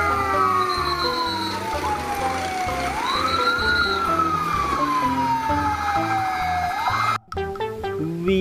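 A warbling toy fire engine siren wails up and down continuously, loud and close, over a busy electronic tune, briefly interrupted near the end.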